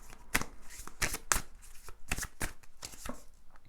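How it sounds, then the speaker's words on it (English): Oracle cards being shuffled by hand, a series of soft riffling flicks and taps, close up and quiet, with no voices. "I'm gonna shuffle this oracle deck"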